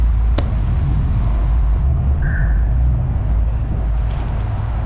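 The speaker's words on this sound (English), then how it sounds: "Oh, it looks like some cars are getting kind of loud. They go diesel truck boy." Traffic on a road at night, a steady broadband roar of passing vehicles including diesel trucks, continuous and moderately loud with no talk.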